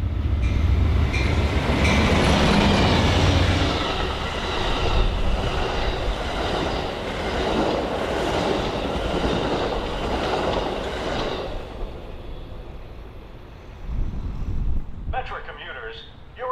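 An Amtrak California Zephyr passenger train passes on a busy BNSF line, a loud, steady rumble with rail clatter and wheel noise for about eleven seconds before fading. An announcement voice follows near the end.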